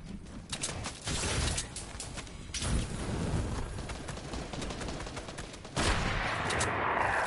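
Sniper gunfire in the video game Fortnite, sharp shots cracking amid dense, continuous game noise, with a loud burst toward the end.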